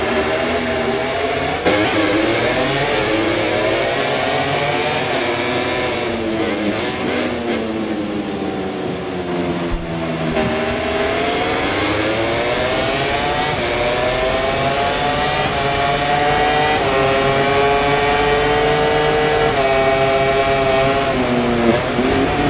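Several racing motorcycles in the MotoGP 24 video game ride back to the pits after a wet race at Chang Circuit, their engines droning loud and continuous with harmonics sliding up and down as throttle shifts, no talk.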